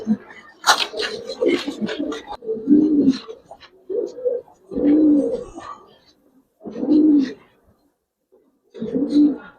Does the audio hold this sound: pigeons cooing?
yes